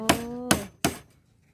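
Three loud, ringing hammer blows strike during house construction, spaced about a third of a second apart, each with a sharp attack and a short metallic tail, heard close up.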